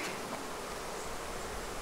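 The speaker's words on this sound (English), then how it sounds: "this hive has a lot of bees in it" Honey bees buzz in an open beehive crowded with workers and a few drones: a dense, continuous hum that stays steady and close for the whole stretch, with no voices.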